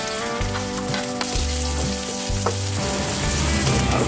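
Ginger, garlic and onion sautéing in oil for chicken liver and gizzard tinola, a dense, even sizzle up close with a few faint stirring taps, under a steady background hum and no speech.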